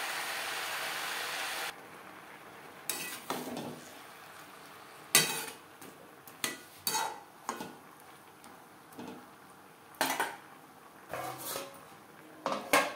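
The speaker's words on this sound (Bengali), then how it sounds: "সবজির সাথে পালং শাক বেশ ভালো করে মিক্স করে দেবো।" Spinach is stirred and mixed with vegetables in a pan, with scattered scraping, clattering utensil strokes at uneven intervals over a low steady hiss. No one speaks.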